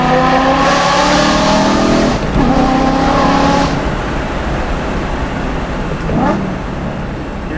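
A BMW E92 M3 with a full Valvetronic Designs exhaust revs loudly and close, engine notes rising and falling before settling into a rumbling drive-by with road noise.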